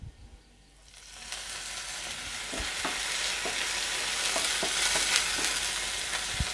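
Curry leaves hit hot oil in a pan for a Kerala pappadam and egg thoran, setting off a loud, steady sizzle that swells after a quiet first second, with occasional spoon clicks and scrapes against the pan.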